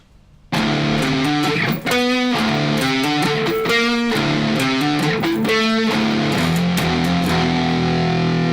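Distorted electric guitar playing a riff, thick chugging power chords with palm-muted repeated notes and sharp accented stabs, loud and close with no talking.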